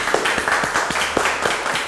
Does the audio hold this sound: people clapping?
yes